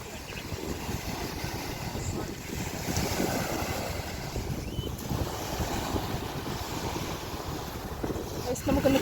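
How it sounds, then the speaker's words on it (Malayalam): Sea waves wash onto Jumeirah beach in Dubai, a constant rolling surf heavily buffeted by wind noise on the microphone, with a louder surge near the end. "ഇതാണ് ഗൈസ് ജുമേറയിലെ കടൽ."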